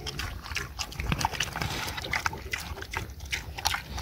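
A pig feeds noisily nearby, with wet chomping, slurping and snuffling in a steady rhythm outdoors, and occasional soft liquid sounds mixed in.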